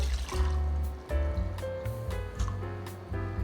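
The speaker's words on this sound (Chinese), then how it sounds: "把小黄瓜放入盘中，已经泡软了，把水沥出来。" Water drains and trickles from soaked, softened cucumber pieces set in a dish, a steady close liquid splashing and dribbling with a low rumbling undertone throughout.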